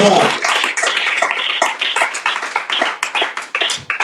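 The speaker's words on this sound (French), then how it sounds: "Acclame ça." A church congregation applauds in loud, energetic clapping, many hands beating fast and unevenly, with brief surges and dips in intensity, close and filling the space without speech.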